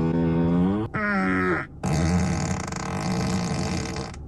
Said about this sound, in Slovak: Povedzte mi vy na rovinu, sedeli ste niekedy v aute, v živote, ktoré prdelo?